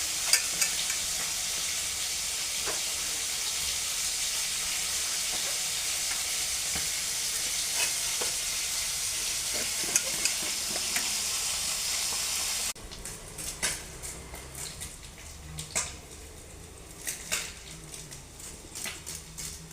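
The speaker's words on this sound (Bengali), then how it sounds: "মাছগুলো ভাজা হয়ে গেছে" Tangra fish fry in hot oil, giving a loud, steady, close sizzle. Partway through, the hiss drops sharply to a quieter crackle with scattered clinks and stirring knocks from the pan.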